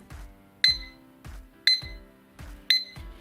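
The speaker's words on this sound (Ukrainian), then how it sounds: "Ось такий звук має будильник. Він доволі голосний." An alarm clock going off, repeating loud electronic beeps roughly once a second, with softer tones in between, nearby and alone.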